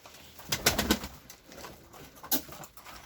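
Pigeons in a loft give soft, low cooing calls in a few short bursts, close by, with quiet rustling between them and no talk.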